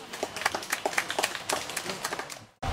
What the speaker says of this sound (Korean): 뜨거운 박수 주십시오